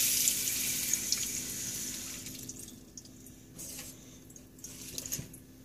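Water fills a cup at home, a steady close pouring hiss that fades over the first few seconds, followed by quieter gurgles and small clinks near the end.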